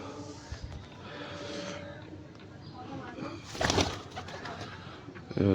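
A pigeon coos in a loft among other pigeons, with low rolling coos and occasional wing flutters heard close by, while someone talks over them.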